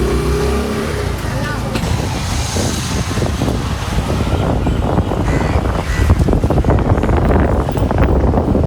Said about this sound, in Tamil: சரியான காத்து மழை வந்துட்டு இருக்கு